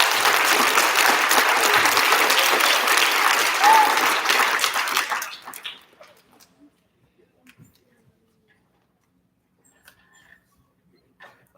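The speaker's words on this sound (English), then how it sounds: "Big round of applause for our second graders." Applause for second graders at an elementary school student recognition ceremony, a dense crowd clapping steadily for about five seconds before fading quickly into a quiet room with a few faint scattered noises.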